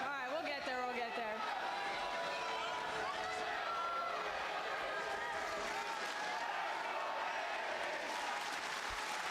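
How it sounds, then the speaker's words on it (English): A WWE Raw arena crowd cheers and applauds in a steady, distant wash of noise, with a voice talking over it near the start. "Did she just bait them into cheering?"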